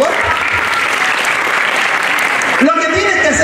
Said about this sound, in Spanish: un aplauso para Chiquirín, por favor